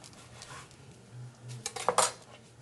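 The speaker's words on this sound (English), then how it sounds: "And we do want to trim just a little bit of the fat." A knife works on a raw ribeye steak on a board, trimming away a little fat: soft scraping and light cutting, building into a few sharp clicks and taps of the blade near the end, close and fairly quiet.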